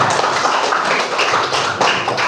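A class of children claps hands together in a quick burst of dense, fairly loud patting, steady throughout with no voices over it.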